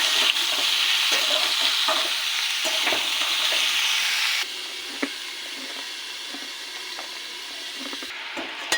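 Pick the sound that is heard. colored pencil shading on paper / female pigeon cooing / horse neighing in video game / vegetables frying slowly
vegetables frying slowly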